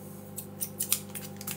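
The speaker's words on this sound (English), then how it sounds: "Grab our Tupperware scissors." Tupperware scissors snipping open a plastic bag of jelly crystals, several quick crisp cuts close up over a faint steady background hum.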